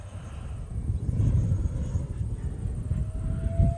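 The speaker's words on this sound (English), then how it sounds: "The 90mm. Full throttle. Definitely the fastest out of all of them." A 90mm electric ducted fan RC jet flies at full throttle, giving a steady whooshing, whining roar that swells and holds, with a rising tone near the end and no voices.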